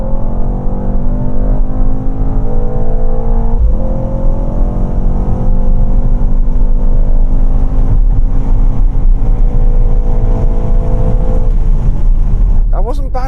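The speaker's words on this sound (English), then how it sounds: "I'm going to start off with the Mercedes." A Mercedes-AMG GT 4 Door launches hard from a standstill, its engine note climbing steadily through the gears in a loud, continuous surge that stays close throughout.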